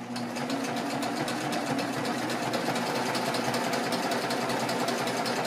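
A sewing machine stitches steadily around the layered fabric of a handy bag, a continuous fast mechanical whirring and clatter running evenly and close throughout, without talk.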